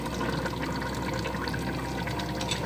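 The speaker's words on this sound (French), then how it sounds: "Je vais le déverser dans la cocotte." Hot water poured into a cooking pot for a veal tajine with caramelized prunes, a steady close splashing stream with no talking.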